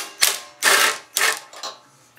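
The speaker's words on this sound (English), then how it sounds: "there is a mount bolt for the tank right there, also an 8 mil. So grab your 8 mil socket with an extension" Ratchet with an 8 mm socket and extension loosening a go-kart fuel tank mount bolt, giving three or four quick bursts of close, loud clicking with short pauses between them.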